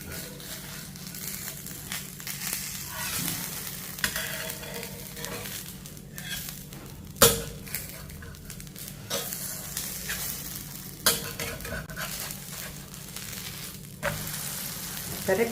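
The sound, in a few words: food frying in sesame oil, flipped in pan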